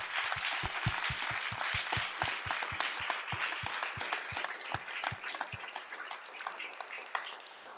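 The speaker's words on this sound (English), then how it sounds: "Can we give them a round of applause?" An audience applauding at a school open morning, a dense steady wash of many hands clapping with a few distinct nearby claps standing out, slowly thinning toward the end.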